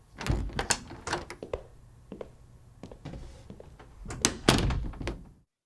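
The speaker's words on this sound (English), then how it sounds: "Jane and Arthur, you'd better slip out the side door to the corridor." A side door opening onto a corridor bumps and thuds several times as people slip out, with scattered knocks and soft shuffling at close range and no speech.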